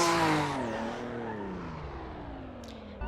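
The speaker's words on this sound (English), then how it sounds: "here's me drifting my old SW20 Turbo" A Toyota MR2 SW20 Turbo drifting, its engine note loud and close at first, then falling in pitch and fading slightly as it slides away, with a brief sharp noise right at the end.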